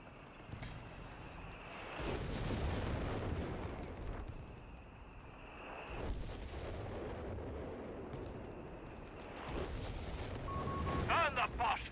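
Incendiary artillery barrage in Company of Heroes 3 rumbles through repeated heavy booms and crackling bursts over about twelve seconds, with a sustained whistling tone and sharp pops near the end, mixed with battle noise.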